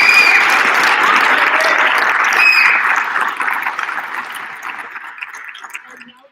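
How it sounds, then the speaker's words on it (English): An audience at a student investment event gives a round of applause, loud sustained clapping that holds for a few seconds and then gradually tapers off. "let's give Grace another round of applause"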